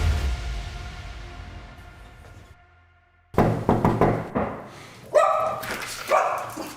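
A dog barks several times in close, loud, irregular bursts, with a few yips mixed in, after a quieter fading stretch at the start.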